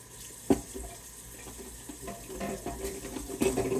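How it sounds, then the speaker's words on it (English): Tap water runs into a kitchen sink as hands are washed, a soft close splashing broken by a few sharp knocks and clatters, with no voices. "Trying to wash my hands here."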